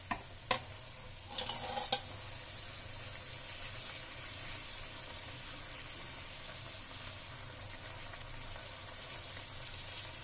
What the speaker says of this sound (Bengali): ঝোলটা ফুটে এসছে, মাছগুলো দিয়ে দেবো।